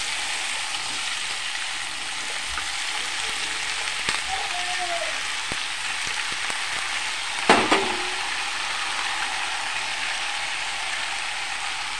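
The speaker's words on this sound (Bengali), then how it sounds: "এই তেলেই আমি কাঁঠালগুলো দিয়ে দেবো।" Jackfruit pieces, not boiled beforehand, frying in oil with a little turmeric, giving a steady close sizzle and hiss throughout with a few light clicks and one sharper knock of a utensil.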